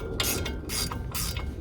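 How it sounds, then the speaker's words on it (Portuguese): A combination ratchet wrench turns a nut while a steering tie rod end is replaced on a Fiat Palio, giving three loud, close bursts of rapid clicking separated by short pauses. "Poderia usar também a catraca normal, mas essa aqui combinada é muito rápida aí para trabalhar."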